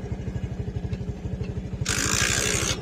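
A TVS motorcycle engine idles steadily and close by with a rapid, even low thumping pulse, joined near the end by a loud broadband hiss.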